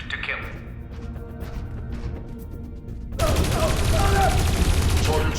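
Gunfire in the Dreamfall Chapters video game erupts suddenly midway as a loud, sustained volley that lasts to the end. Quieter game sounds and a voice come before it.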